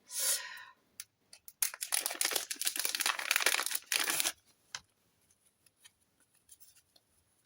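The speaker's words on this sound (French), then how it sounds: "Là, tu as les ciseaux" Scissors snip and slice through scrapbooking paper in a busy stretch of crisp, rustling cuts, then a few sparse clicks and snips follow quietly.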